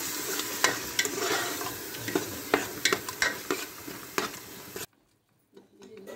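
Vegetables fry and get stirred in a pan for a veg biryani, with steady close sizzling broken by sharp scraping stirs in a loose rhythm, then a sudden cut to near silence near the end.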